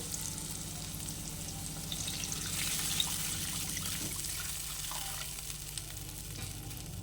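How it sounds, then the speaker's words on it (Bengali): Tangra fish curry with kalojeera frying in a pan as water is poured in, a steady close sizzle with trickling liquid that eases and settles into a softer simmer partway through. "এখন এর মধ্যে দিয়ে দেব পরিমাণ মতো জল"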